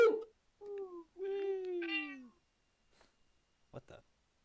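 Cat-like meowing during an online fantasy game session: two drawn-out, falling meows, clear and fairly close, followed by a couple of faint brief noises and near silence.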